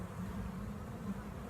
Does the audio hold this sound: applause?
no